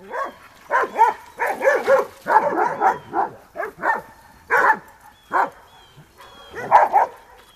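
Dogs bark and whimper eagerly in close, rapid bursts, with high yips and whining between the barks, excited about running with other dogs.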